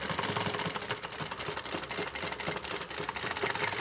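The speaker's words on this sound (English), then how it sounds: "I'm just going to stitch up as far as I can and stop" A sewing machine stitches a tote bag made after a Prada design, its needle chattering in a fast, steady run up close with no pauses or voices.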